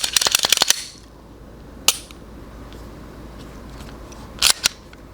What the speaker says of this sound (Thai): ขออนุญาตเคลียร์ปืนนะครับ